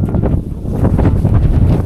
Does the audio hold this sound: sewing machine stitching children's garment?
no